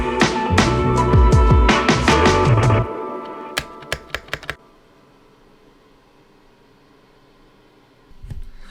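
Fast, loud typing rattles on a computer keyboard freshly fitted with new keycaps at a college desk. A few separate taps follow, then near silence.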